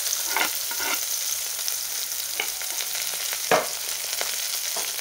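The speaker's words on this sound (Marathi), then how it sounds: "आणि कांदा आपल्याला छान परतून घ्यायचा।" Chopped onion and green chillies fry in an oiled pan for upma, a constant close sizzle broken by several scraping stirs of a spoon, with nobody speaking.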